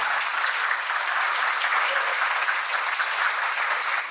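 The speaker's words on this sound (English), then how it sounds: "So a round of applause for Father and for all of his friends." Parish audience at a combined parishes gathering breaks into dense, sustained applause, many hands clapping evenly and fairly loudly throughout, with no voices on top.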